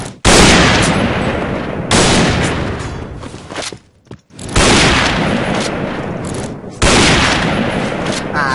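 Heavy gunfire in the Point Blank shooter game, loud close automatic bursts in several long volleys separated by brief pauses, with players talking faintly underneath.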